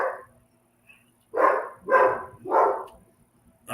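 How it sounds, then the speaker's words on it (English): A dog named Bougie barks outdoors in a yard, one short yip followed by three loud, evenly spaced barks close to the microphone, with no talking. "Bougie's barking."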